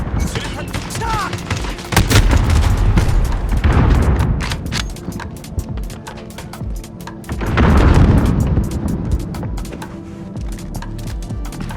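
A grenade blast in the Call of Duty: Modern Warfare video game, heavy booms swelling twice amid dense surrounding gunfire and crackling shots, loud and close, with radio-style voices underneath.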